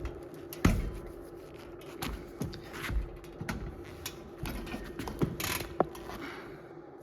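The pedals of an old imported exercise bike in an abandoned seaside hotel turn slowly. Soft mechanical ticking and a few sharper clicks sound at an uneven pace, faint and close, with no voices.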